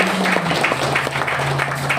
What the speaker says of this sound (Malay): So boleh kita beri tepukan untuk diri sendiri.